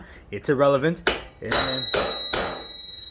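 A hammer bangs steel flange feet onto the legs of a work table inside a food truck: four sharp metallic strikes at an even pace, loud and close, following brief speech.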